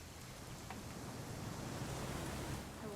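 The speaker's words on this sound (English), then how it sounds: "It's gonna rain the whole weekend, isn't it?" Steady rain falls in the video game What Remains of Edith Finch, a continuous broadband hiss that stays even and close throughout, with no voices over it.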